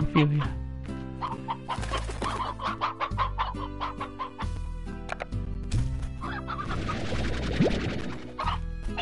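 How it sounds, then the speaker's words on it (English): Chickens cluck in the video game Slime Rancher, repeated clucks over a steady bed of game music, some louder and close. "Sorry, chicken, I'm gonna take a few of you."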